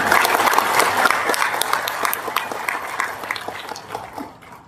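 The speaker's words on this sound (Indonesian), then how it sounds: "Saya boleh tepuk tangan." Applause from a debate audience in Indonesia, a dense patter of clapping that stays loud, then thins and fades toward the end.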